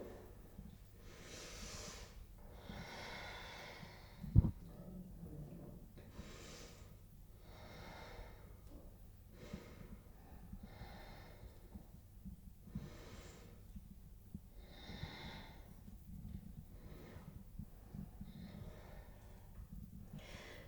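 Slow, deep yoga breaths drawn in and let out through the nose while holding a seated forward fold, soft and close, repeating in a steady rhythm with one sharp knock partway through.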